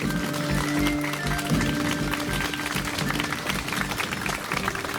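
A crowd at the opening of the Ше.Fest 2021 festival in Morintsi bursts into sustained applause, a dense, steady roar of many hands with faint held tones underneath throughout.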